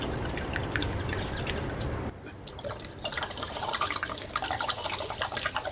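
Water pours out of a spinning plastic bottle in a steady, rushing, gurgling stream that briefly eases and then picks up again with splashy dripping, close and continuous, with no talking.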